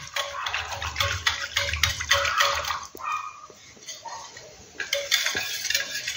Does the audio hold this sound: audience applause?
no